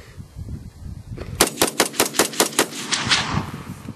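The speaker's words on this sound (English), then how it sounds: "Uncle Corey shoots stuffs." A gun fires a rapid, loud burst of about nine evenly spaced shots outdoors, preceded by a moment of muffled background noise.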